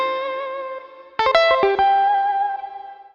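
Sampled guitar played through the Soundpaint real-time rendering software instrument, a sustained distorted chord followed by a rapid run of plucked notes that ring out with effects, close and alone.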